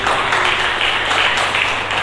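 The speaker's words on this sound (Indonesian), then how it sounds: "Berikan tepuk tangan bagi Yesus." Steady broadband applause from a church congregation during a Sunday sermon, continuous and fairly loud throughout with no talking.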